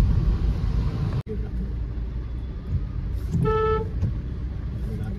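A car reverses in a wet street in rainy Pune, giving a low continuous engine rumble with a short, clear tonal honk or beep partway through.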